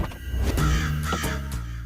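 A crow caws several times nearby, loud harsh repeated calls in quick succession with no talking over them.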